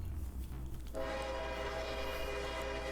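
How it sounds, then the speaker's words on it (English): A subway train in the game Plutonium passes with a sustained rumbling roll, then a steady horn-like tonal hum joins it about a second in and holds loud and close with no talk. "Is this a subway?"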